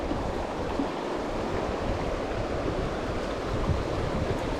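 Gusting wind buffets the microphone beside a river during euro nymphing fly fishing, a steady broadband rushing noise with running water beneath, continuous and fairly loud, with no voices.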